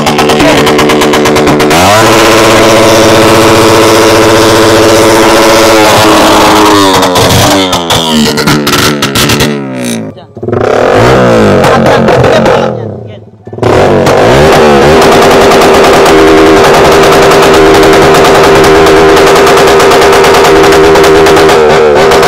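A Raider 150 Fi motorcycle with an open-pipe exhaust revs hard nearby, its engine rising and falling. Crackling pops come from the pipe and there is a brief drop-off midway before the loud revving returns.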